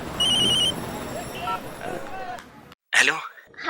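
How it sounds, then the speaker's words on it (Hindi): A telephone rings in a household scene from a Hindi TV serial, its bell tone repeating in short bursts under background voices before a brief silence and a person answering. "कब से फोन बज रहा है? उठाओ ना इसको।"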